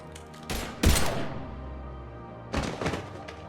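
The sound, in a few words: gunfire in a video game firefight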